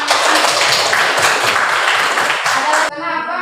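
Classroom students clap loudly together for group 1, a dense continuous burst of applause filling nearly three seconds before stopping abruptly, followed by a brief quiet tone.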